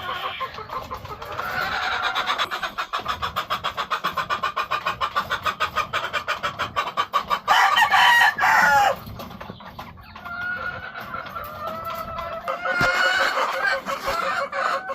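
Gamefowl breeding hens cluck in quick rhythmic bursts close by, with a rooster crowing loudly mid-way and more agitated clucking after, all without talk.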